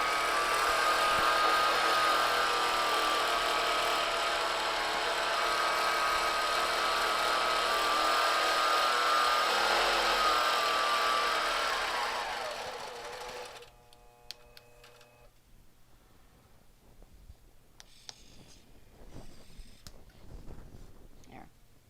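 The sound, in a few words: longarm quilting sewing machine stitching a line across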